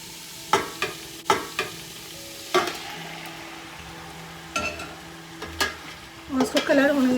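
Chicken frying with garlic and ginger in a pan, a soft sizzle beneath sharp clinks and scrapes of a spoon stirring at irregular intervals.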